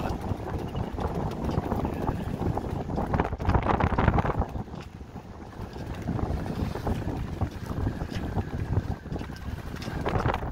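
A sailboat passing by on open water, with steady broadband wind and water rush buffeting the microphone throughout, no voices.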